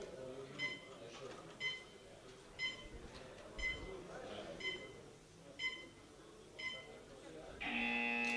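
At a men's 53–59 kg equipped powerlifting event, part of the World Sub-Junior and Junior Championships, a series of short, evenly spaced beeps leads into a loud, sustained competition start buzzer at the very end, over a low murmur of background noise.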